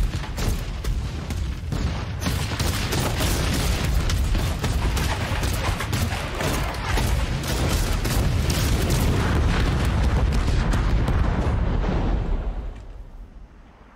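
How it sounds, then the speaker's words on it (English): Loud, dense explosions and booming blasts from an action scene in the movie Angel Has Fallen, sustained and roaring almost without pause before cutting off near the end. "I decided to use the clip with explosions."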